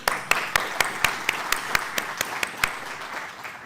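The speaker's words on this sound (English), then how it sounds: "Let's give them an applause." Audience at an Islamic psychology symposium applauding in a steady run of about a dozen sharp claps, a moderate indoor clatter that thins out toward the end with no voices.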